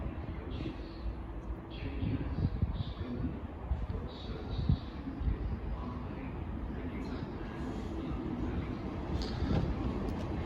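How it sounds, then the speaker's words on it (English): A Great Western Railway class 802 train rumbles into Cheltenham Spa station, a low continuous rolling drone with faint squeals, moderately distant, with scattered voices around the platform. "Coming in now is the 1459 Great Western Railway service to Swindon."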